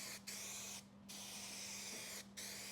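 Adhesive sprays in steady hissing bursts onto a wall panel inside a 2023 Ford Transit van build, with two short pauses between long, even passes, close and fairly quiet.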